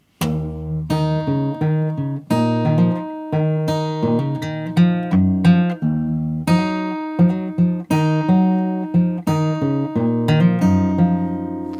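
Fingerstyle acoustic guitar in drop D tuning plays a steady, ringing intro with low bass notes under picked melody, played alone and clearly up close.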